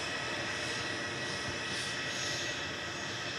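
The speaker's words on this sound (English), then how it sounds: "A320 Classic departed next to Milan with flight 3838" An EasyJet Airbus A320 Classic departs Manchester Airport bound for Milan, its jet engines a steady, continuous broadband roar throughout.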